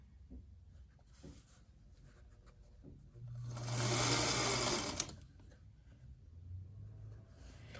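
Sewing machine stitching a quarter-inch seam allowance on a 9-inch quilt block, one short, fairly quiet run of about two seconds set between softer fabric handling sounds.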